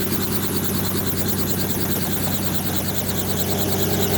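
A helicopter flies over a mansion in Puerto Rico, its rotor thudding in a steady, loud, continuous chop with a low engine hum, heard alone without voices.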